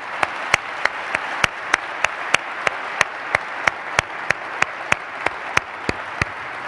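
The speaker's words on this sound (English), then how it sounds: "we're going to give Michael Lewis a huge, big round of applause" Sustained applause from an audience, a steady wash of clapping with a few sharp individual claps standing out, no talking.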